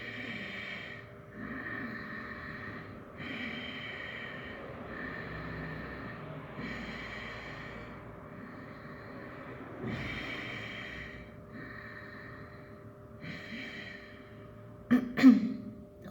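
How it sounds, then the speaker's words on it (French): Ujjayi yoga breathing with slow, audible, throaty inhales and exhales that repeat steadily in a quiet room, closing with a louder breathy burst near the end. "On est parti pour 10 secondes de respiration Ujjayi à votre propre rythme."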